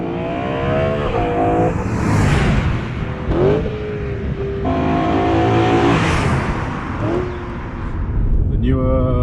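Stock factory exhaust of a BMW E92 M3 revving hard, rising to high-pitched wails and dropping back between repeated throttle blips, loud and close, with brief lulls in between.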